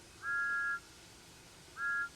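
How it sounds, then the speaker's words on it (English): Thomas the Tank Engine's steam whistle in the Train Sim World 5 video game sounds two clear, steady high-pitched toots, each about half a second long, spaced about a second apart over a quiet background. "Listen to that whistle."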